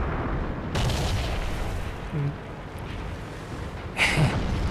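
Tank cannon fire rumbles in World of Tanks, two heavy booming blasts a few seconds apart over a constant low battlefield din, with a faint short clank between them.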